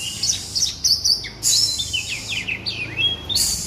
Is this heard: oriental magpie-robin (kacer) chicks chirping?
yes